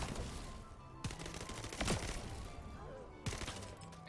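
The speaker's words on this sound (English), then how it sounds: "See, so everyone will explode." Enemies blowing up in the shooter game The First Descendant, with sharp crackling blasts at about one, two and three and a quarter seconds over a continuous busy layer of gunfire and game effects.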